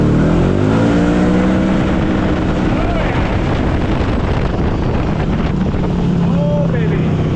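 A Kawasaki KRX side-by-side engine fitted with a Brute Performance fuel pump revs loudly and continuously close by, its pitch rising and falling, with heavy wind buffeting and a voice briefly heard over it.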